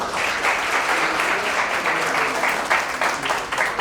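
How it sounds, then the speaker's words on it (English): An audience claps steadily in a dense, continuous round of applause, fairly loud and sustained throughout. "So clapping for this."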